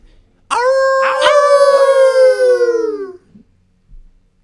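A person imitates a dog's howl, one long, loud, drawn-out wavering cry that slides downward and fades after about two and a half seconds, with a faint murmur afterward.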